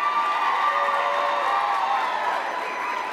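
Crowd at an award night for SEVA cheering and whooping, loud and sustained, a dense wash of voices filling the room without pause.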